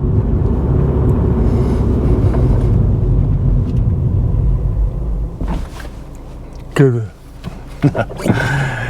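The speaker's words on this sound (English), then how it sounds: "another mistake people make when they're braking to a stop is this" A car's road and engine rumble holds steady, then fades as the car slows to a stop, followed by quieter cabin noise and someone speaking.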